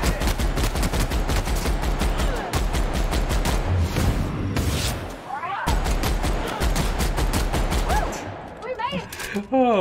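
Sustained automatic gunfire in The Outer Worlds, a loud, steady rapid-fire stream broken by a couple of brief pauses, with a player's voice faintly mixed in.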